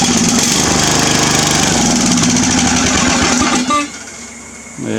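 Salvaged starter on a free Craftsman lawn mower brings the engine to a loud, steady running roar for about four seconds before it sputters and cuts out, leaving a brief quiet tail.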